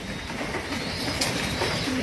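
Pigeons at a seller's place coo softly amid a dense, noisy background, their low murmuring calls blending into a steady hiss of surrounding sound.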